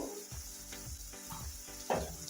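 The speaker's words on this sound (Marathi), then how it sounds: "हळद मिक्स करून घेऊ वाटणामध्ये।" Turmeric stirred into a sautéing ground masala paste for Nagar-style kadhi vada: soft rhythmic spoon strokes scrape through the thick mixture over a low, steady sizzle, with one slightly louder scrape near the end and no voices.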